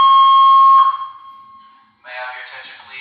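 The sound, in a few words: fire alarm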